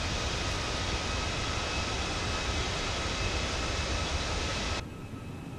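Airbus A320neo taking off in Microsoft Flight Simulator on Xbox: a constant, loud broadband engine roar that holds steady, then drops abruptly to a quieter rumble near the end.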